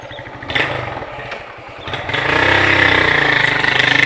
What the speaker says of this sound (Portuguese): Dá uma acelerada pra vocês verem o barulho.